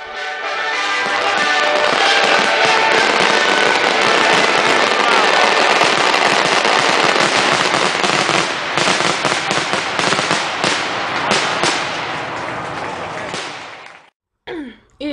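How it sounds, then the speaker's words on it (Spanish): Night fireworks display in Retiro park in Madrid, with a dense, continuous crackle of bursts and pops sustained loud for about fourteen seconds, then a sudden drop to near silence broken by a couple of last distant pops. "en el Retiro, había un espectáculo de fuegos artificiales."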